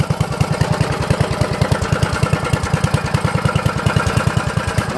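A generator engine running on compressed biogas chugs steadily nearby, a loud, even, rapid low-pitched thumping with a rough mechanical rattle, slightly under speed.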